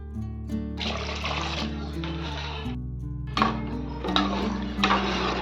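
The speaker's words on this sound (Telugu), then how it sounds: "మసాలాస్ అన్నీ ఫ్రై అయ్యాక వాటర్ యాడ్ చేసుకోవాలి 1:2 రేషియోలో." Water is poured from glasses into a pot of fried masala in three separate rushing bursts, loud and close, over steady background music.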